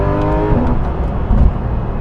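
A Porsche GT3 RS engine revving hard toward 9,000 RPM, a loud, rising high-pitched wail heard close from inside the car, steady and unbroken with no talk.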